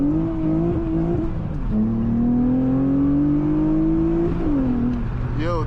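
A 2004 Honda Accord coupe with a J32 V6 and six-speed manual revs loudly from inside the cabin, its engine tone climbing steadily, dipping, then rising again as the car pulls, with a brief voice near the end.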